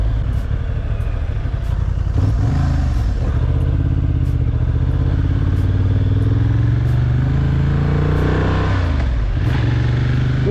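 A new motorcycle, being run in, rides through town with a steady, loud engine drone that rises and falls through gear changes, accompanied by wind rumble close to the rider.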